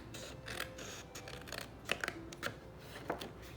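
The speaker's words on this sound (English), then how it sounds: "I'm just gonna cut this out with my scissors" Crisp snipping and rustling as scissors work through paper, a few distinct cuts spaced irregularly over a few seconds, close and moderately quiet.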